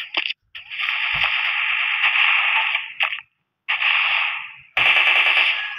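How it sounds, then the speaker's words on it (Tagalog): Automatic gunfire from the online shooter Special Force 2 comes in long, sustained bursts separated by brief pauses, loud and close, with a final burst cutting in sharply near the end. "Kaya pasensya nyo na kung putok ng putok tong baril ko"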